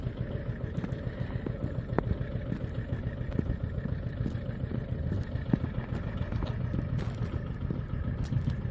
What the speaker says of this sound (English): He's inviting George to go off on the tractor with him.